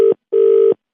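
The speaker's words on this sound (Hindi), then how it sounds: "मैं फोन काट रहा हूँ" A telephone gives its hang-up tone as a call ends: two clean electronic beeps, a short one then a longer one, with silence between and after.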